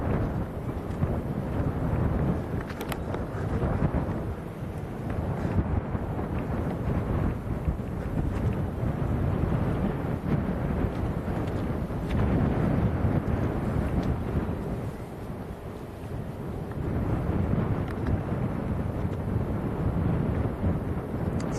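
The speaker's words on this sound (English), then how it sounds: "It's a real struggle to hold this tripod in the wind, I must admit." Strong gusty wind buffets the microphone at Manchester Airport, a loud, continuous low rumble that swells and eases throughout, with no voices heard.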